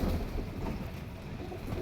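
A Teddy pigeon coos softly in low, murmuring tones, held close by hand, a steady continuous burble with no voices.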